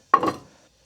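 A frying pan holding lard and onion is set down on a stove, making one short, close knock with a brief ring that fades quickly.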